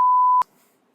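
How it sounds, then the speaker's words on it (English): A single steady censor bleep covers a word in a podcast, a pure tone held for under half a second that cuts off abruptly, leaving near silence. "I'm gonna bleep that out too. Like massive beep."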